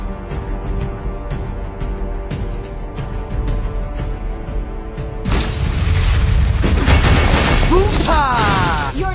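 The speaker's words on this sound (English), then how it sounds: "Your team destroyed the turret!" A turret is destroyed in a mobile hero battle game, with dense booming explosions and crackling bursts under a busy wash of game effects. The blast noise swells louder partway through.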